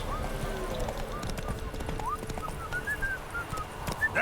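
Roach, a horse in The Witcher 3, gallops with steady clip-clop hoofbeats and snorts as a rider urges it on, a voice speaking briefly over the hooves.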